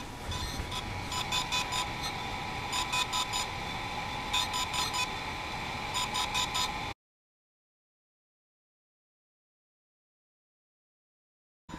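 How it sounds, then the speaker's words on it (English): A DJI Inspire 1 drone beeps during a firmware update, giving repeated short high-pitched bursts in a regular pattern over a steady electronic tone. The sound stops after about seven seconds. "you can hear it making that noise letting you know it's updating"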